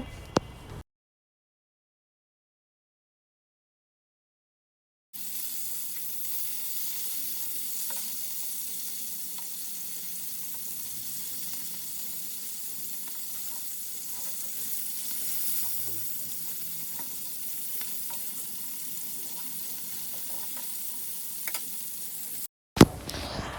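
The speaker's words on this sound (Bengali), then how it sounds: "এই তো আমি মাছটাকে ফার্স্টে ভেজে নিচ্ছি" Fish frying in a pan, giving a steady, close hiss of sizzling oil that runs for about seventeen seconds with faint crackles, framed by short silent gaps at start and end.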